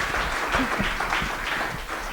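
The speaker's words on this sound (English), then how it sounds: "let's give a rounds of applause to him because he really works so hard" Brief applause from a medical lecture audience at a talk on pheochromocytoma and paraganglioma management, a short burst of clapping lasting about two seconds.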